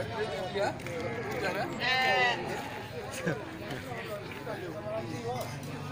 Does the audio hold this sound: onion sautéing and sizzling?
no